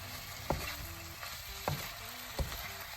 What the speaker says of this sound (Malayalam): സോ ഞാൻ മെല്ലെ ഇളക്കി കൊടുത്തുകൊണ്ടിരിക്കാം